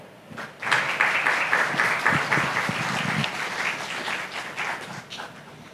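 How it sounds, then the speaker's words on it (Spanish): A lecture audience gives a warm round of applause to welcome a speaker, starting abruptly and holding steady, dense clapping that tapers slightly toward the end. "Recibámosla con un cordial aplauso."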